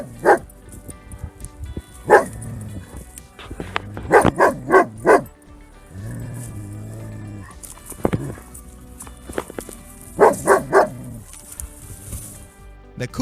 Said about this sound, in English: the dog does everything possible to protect its owner and scare the cougar